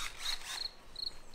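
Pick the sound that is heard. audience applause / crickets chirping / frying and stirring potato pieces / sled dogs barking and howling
crickets chirping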